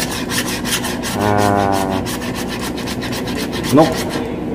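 Sandpaper scrapes rust and burnt spots off metal in steady, rhythmic back-and-forth strokes, close and continuous, with a brief vocal sound near the end.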